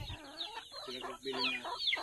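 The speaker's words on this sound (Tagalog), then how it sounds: "No, daghang manok." Several chickens cluck and squawk in a Filipino farmyard, repeated close calls overlapping in a busy flock with no talk.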